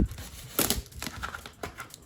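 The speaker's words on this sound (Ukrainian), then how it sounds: "Коробочки, отак от е, скотчем в одну запечатані." Parcel boxes sealed together with tape are unpacked up close, giving several bursts of crinkling cardboard and ripping tape, with quieter rustling between them and no talk.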